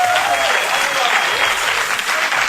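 Loud, dense applause from a studio audience for a Portuguese band, a sustained wash of many hands clapping close up that carries on evenly to the end.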